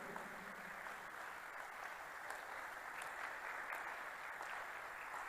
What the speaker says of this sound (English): Clap, clap, clap before I continue.